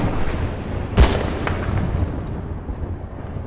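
A single sharp rifle shot in the video game Battlefield: Bad Company 2, a loud, sudden crack followed by a short rumbling tail over quiet in-game ambience.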